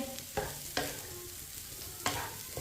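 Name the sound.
stirring semolina halwa in syrup with a spoon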